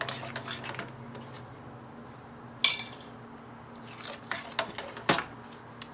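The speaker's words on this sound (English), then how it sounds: "You gotta stir this good to make sure you get all your garlic powder" A utensil scrapes and clinks against a pot while garlic powder is stirred into food, giving quiet, irregular metallic taps and a few sharper clanks over a low steady hum.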